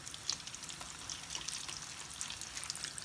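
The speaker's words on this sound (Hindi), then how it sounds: "एक साइड हो जाए तो दूसरी साइड तल लेनी है।" Vada pav balls coated in gram flour batter frying in hot oil over a high flame, a faint, steady fizzing crackle with scattered tiny pops, close by and without talk.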